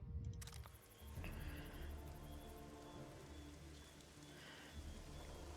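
Steady rainfall hisses through The Witcher 2 game world, a dense, even wash of drops with a brief tonal blip near the start and no voices.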